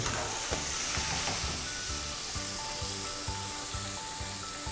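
Battered shrimp frying in hot oil with a steady, dense crackle and hiss that runs throughout, loud and close, with a low rhythmic hum beneath and faint scoops in the oil.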